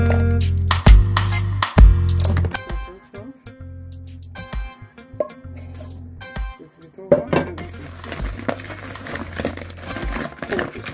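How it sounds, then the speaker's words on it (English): Crispy garlic butter chicken wings are tipped into a bowl and sauced, giving close clinks and scrapes of dishes and utensils with soft patter, with a few louder knocks near the start and busier clatter toward the end. "Now we're going to transfer it to the bowl. And we're going to add our sauce."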